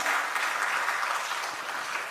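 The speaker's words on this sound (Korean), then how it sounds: "또 다시 한번 박수하도록 하겠습니다" A church congregation at a Sunday afternoon service claps together in a brief, dense burst of applause. The clapping is steady and fills the room, with no voices.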